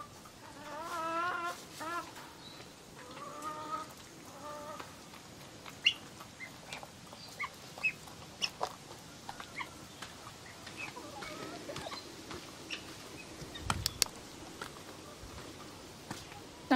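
Guinea fowl on a tropical self-sufficient property in Far North Queensland, giving repeated harsh clucking calls at a moderate distance over steady outdoor background noise, with scattered sharp knocks and clicks.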